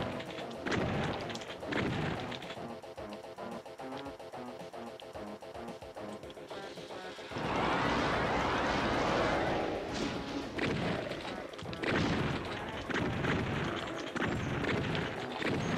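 Repeated shotgun blasts from the 1993 first-person shooter Doom, loud booming shots in a busy burst that grows denser around the middle, layered with game noise.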